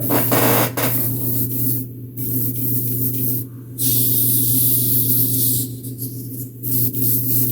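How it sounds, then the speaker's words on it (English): An airbrush sprays with a steady, loud hiss over a constant hum, briefly cutting out and restarting a few times as the trigger is released and pressed again. "Nothing's more frustrating when you spend 30 minutes cleaning out an airbrush and it's still not spraying right."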